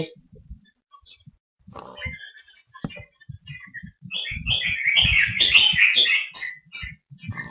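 Pet birds chirping and twittering nearby, sparse calls at first then a dense burst of bright chirps, with some low thumps and rustling.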